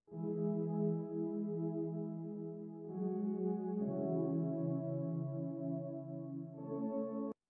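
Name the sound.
saw-based synth chords with filter and lots of reverb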